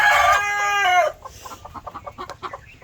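A chicken clucks up close, first a long drawn-out call and then a rapid run of short clucks, loud and alone with no talk.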